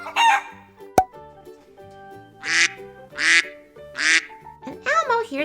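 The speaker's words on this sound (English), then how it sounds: "Elmo hears a duck sound from that purple camper." A cartoon duck quacks in three loud, separate bursts, following a rooster-like crow and a sharp hit, all set over bright children's farm-song music.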